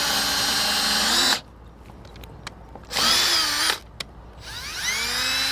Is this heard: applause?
no